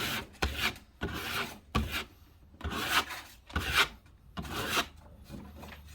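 A spatula spreads hot mud drywall compound across a ceiling patch in repeated rasping strokes, each swipe about a second long, close and fairly loud with short pauses between passes.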